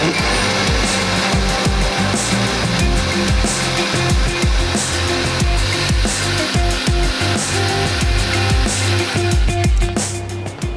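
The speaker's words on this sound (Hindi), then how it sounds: "थोड़ा सा और ब्लेंड कर लेते हैं ताकि बादाम और तमाम चीज़ें अच्छी सी फाइन सी ब्लेंड हो जाए।" An electric kitchen blender blending almonds with other ingredients, a loud steady whirring motor with rhythmic churning pulses, close and continuous throughout.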